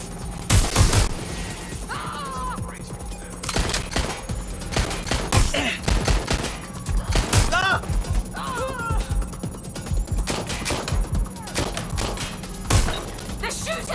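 Gunfire in the video game Watch Dogs Legion rings out loud and close as repeated sharp shots and rapid bursts, scattered irregularly throughout, with shouting voices between the volleys.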